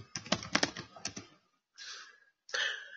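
Short bursts of clicky key tapping on a computer keyboard, close and dry, separated by brief pauses of silence.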